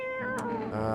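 A cat in the horror video game No, I'm Not a Human gives a single, close, loud meow under a second long, a rising then falling tonal call.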